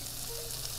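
Shrimp frying in a hot pan, spread apart rather than crowded, give a steady, close sizzle that holds evenly throughout without any speech.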